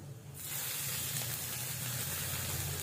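Dry fruits sizzling and frying in hot ghee in a pan for carrot halwa, a steady loud hiss that starts abruptly after a brief quiet moment and continues evenly with no talking.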